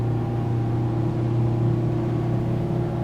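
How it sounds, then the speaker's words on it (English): A 33-foot Yachtline boat runs on a single Mercury V10 400 outboard, a steady, even engine drone with a low hum that holds constant and close throughout. "we're going to run one outboard here, one of these V10 400s"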